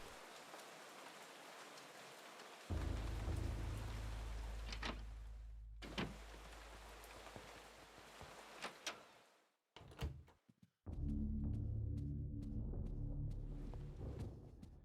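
Steady rain in the video game Eternal Darkness, a dense hiss that fills the scene under a low rumbling ambience, briefly cut by a door-like thud and a short silent gap before the downpour resumes.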